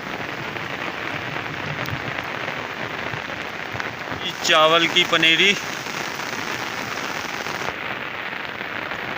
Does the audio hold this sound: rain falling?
yes